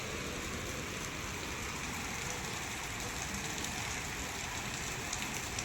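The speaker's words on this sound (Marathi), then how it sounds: "कंटिन्यू एवढा पाऊस चालू" Steady, dense rain pours without pause in Pune, a constant broadband wash with no voices.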